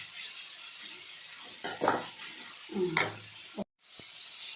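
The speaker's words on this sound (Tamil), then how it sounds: "இங்கே கருவேப்பிலை கிளறிக்கலாம்" Brinjal thokku with onion, tomato and curry leaves being stirred in a pan: a low background sizzle broken by two scraping, clattering stirs and a sharp knock near the end, no talk.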